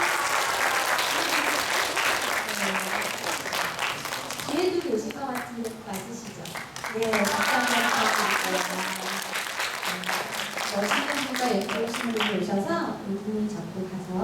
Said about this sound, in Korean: 오늘 혹시 새로 오신 분 박수 좀 쳐드려도 될까요?